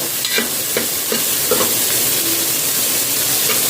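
Ghee rice fries in ghee in a pan, a loud, steady sizzle with repeated scraping strokes of a spoon stirring through it, close and continuous with no talking.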